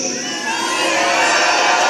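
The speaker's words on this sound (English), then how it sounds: "Come on, Auburn, let's get loud, let's cheer, let's do this for Charlie." A large crowd at an Auburn rally cheers and whoops together in a loud, continuous roar that swells slightly over a couple of seconds.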